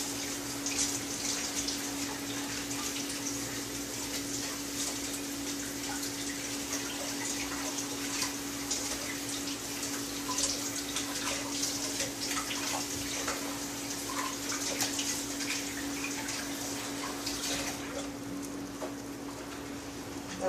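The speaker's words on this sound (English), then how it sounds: "Wash my hands." Tap water runs steadily while hands are washed after a messy clean-up from making cold porcelain air-dry clay, a constant close splashing wash with small variations and no talk.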